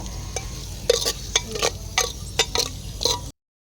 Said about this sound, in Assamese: এতিয়া মই মাংসখিনি লাহেকৈ গোটেইখিনি ইয়াতে দি দিম।